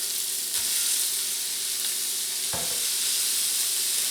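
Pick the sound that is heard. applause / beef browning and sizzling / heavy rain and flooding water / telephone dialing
beef browning and sizzling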